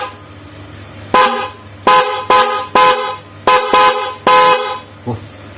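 Denso WP car horns, an original and a replica, honked in turn: six loud blasts of varying length separated by short gaps, with a faint brief blip at the end.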